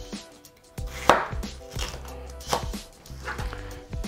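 Cabbage being chopped with a sharp knife on a board, a series of close, crisp, irregular cuts, some sharper and louder than others.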